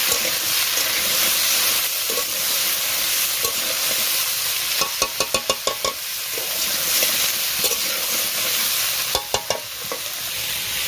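Mixed vegetables fry in oil in a pan, a constant loud sizzle and hiss broken by quick bursts of rhythmic spatula clicks as they are stirred, with no talking.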